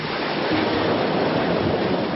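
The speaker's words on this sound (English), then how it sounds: "Out of nowhere, a 70-foot wave slams the boat." Ocean water roaring around a cruise ship struck by a 70-foot rogue wave: a dense, steady rush of surf and spray that stays loud throughout without a distinct single impact.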